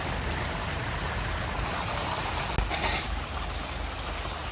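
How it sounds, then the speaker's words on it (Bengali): Steady rain falls heavily and evenly throughout, a dense continuous hiss with one brief sharp knock midway; no one speaks. "বৃষ্টি তো পড়তেই আছে"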